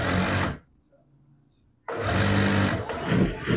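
A sewing machine runs a fold stitch along the hem of a large-size trouser, a loud steady whir that stops for about a second and a half, then starts again and runs to the end.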